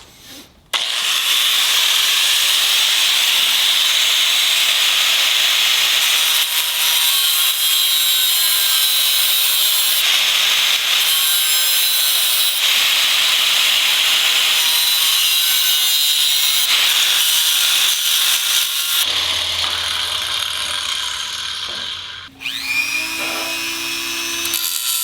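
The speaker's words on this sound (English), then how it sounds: "I'm gonna come in with the angle grinder, notch, notch, somehow try to fit the blade in there" An angle grinder cuts notches into a steering rack part on a Subaru STI, giving a loud, sustained, close high whine with slight shifts in pitch. It cuts off near the end and winds down.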